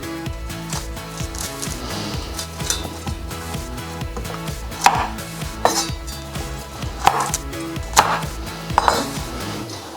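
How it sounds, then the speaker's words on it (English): Broccoli being chopped into florets on a cutting board, irregular knife cuts with several sharper thuds later on, accompanied by background music. "And now for the broccoli itself, we're just going to chop them into little florets."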